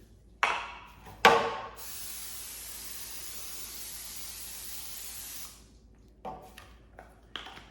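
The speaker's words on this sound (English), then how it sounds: "I'm going to spray pan so it'll be ready when I need it." A short spray burst followed by a sustained hissing spray of cooking oil onto a baking pan lasting several seconds, close by, with a few clinks before and after.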